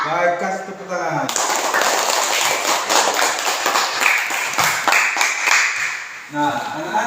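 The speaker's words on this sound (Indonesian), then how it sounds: "kasih tepuk tangan" A school class clapping hands in a lesson, a burst of brisk, close applause from many pupils that ends with a voice briefly heard before and after.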